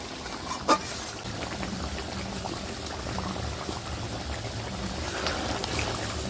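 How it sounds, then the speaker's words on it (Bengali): Mutton kosha gravy simmering and reducing in a pan gives a steady, close bubbling sizzle that stays even throughout, with one brief clink near the start. "একটু ঝোলটা শুকিয়ে নেব।"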